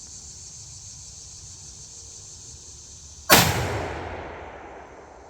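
A 1,000 grain muzzleloader rifle fires a single loud, close shot that booms and rolls off into a long fading echo outdoors, following several seconds of quiet insect buzz.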